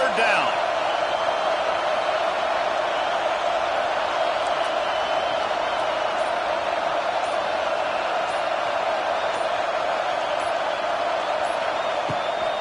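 A dense home crowd at a football game roars steadily as the defense faces third down, a loud continuous wash of cheering and noise that holds for the whole stretch.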